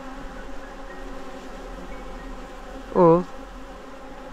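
Wild bees hum faintly around a hive on a bamboo hill, a thin, steady drone under background noise, with one louder close buzz as a bee passes; a person murmurs briefly.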